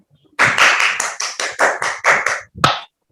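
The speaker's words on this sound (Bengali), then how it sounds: "সবাই একটু হাততালি দাও" Claps sound in a live online English class for sixth-grade students. About eight sharp, evenly spaced claps come up close, then a brief pause and one final louder clap.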